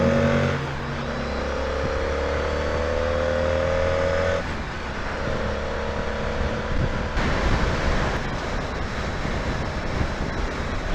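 Road traffic idling and creeping in a jam, with a steady broadband rumble and wind-like hiss, tonal engine hums and occasional revving, continuous and fairly close, no talk.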